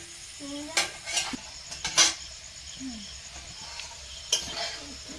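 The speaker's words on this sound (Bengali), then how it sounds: "আলু ভাজা হয়েছে না হবে" Potatoes fry in a pan with a soft background sizzle, punctuated by several sharp metallic scrapes and clinks of a spatula stirring against the pan, close and intermittent.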